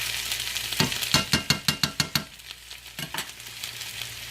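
Food sizzling and crisping in a hot frying pan, with a run of sharp, rhythmic scraping and tapping hits from a utensil stirring or flipping it, close and clear over the steady fry.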